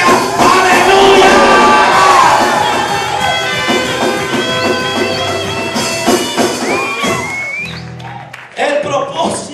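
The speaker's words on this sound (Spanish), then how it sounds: "Todo el que esté alegre, pegue un grito y diga: ¡aleluya!" A church congregation shouts and cheers together in a loud, dense burst of overlapping voices and whoops that swells and then fades over several seconds, with a preacher's voice rising above the crowd.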